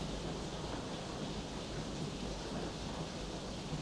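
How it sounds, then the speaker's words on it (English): Pouring rain makes a dense, constant broadband hiss that holds steady at moderate level throughout, with no voices and no breaks. "this pouring rain is really distracting me"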